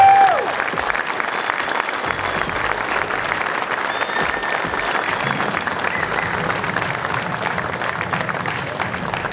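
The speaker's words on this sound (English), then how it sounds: "let's start hearing a big, big round of applause for Denny and Rita Lachek" A big round of audience applause at a wildlife and farm event for a farm winner couple, dense sustained clapping from a crowd that keeps an even, full level from start to finish.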